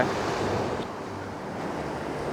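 Sea waves break and wash onto a beach during evening surfcasting in murky water, a continuous roaring surge with gusty wind noise on the microphone and no voices.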